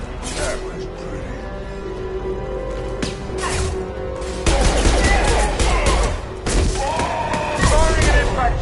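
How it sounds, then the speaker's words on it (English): Impact rifle shots fired in the sci-fi shooter Mass Effect 2, a series of loud, dense bursts with thuds and booms over continuous game sounds, with a voice talking throughout. "Firing an impact shot! I love this rifle."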